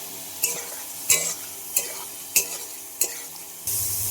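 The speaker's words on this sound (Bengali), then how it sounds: "কেটে রাখা আলুগুলো ভেজে নেব" Cut potatoes fry in oil with cumin, cinnamon and bay leaf, a spatula scraping the pan in regular strokes about every half-second over a soft sizzle that swells louder at the end.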